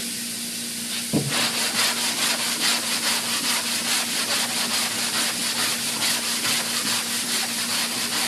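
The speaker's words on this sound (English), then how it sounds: "I've sanded the high spots here." A sanding block works over body filler on a car panel in steady rhythmic back-and-forth strokes, a loud close scratchy rasp that starts after a brief quiet hum and keeps an even pace.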